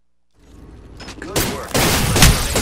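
Gunfire in the video game Apex Legends, a burst of loud, dense shots building over a couple of seconds with heavy impacts toward the end.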